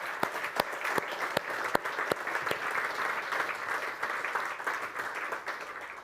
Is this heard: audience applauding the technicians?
yes